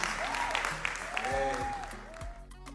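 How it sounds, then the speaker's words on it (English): Audience applause at a conference, a steady wash of clapping from a crowd that runs under a speaker's voice, with some tonal music or sustained sounds mixed in. "Big round of applause to Her Excellency."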